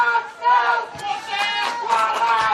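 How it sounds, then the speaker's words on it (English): Spectators gather at a South Hobart v Kingborough Lions football match, a lively crowd murmur with overlapping voices and calls rising and falling close by. "Crowd has built up a little bit and still people trickling in."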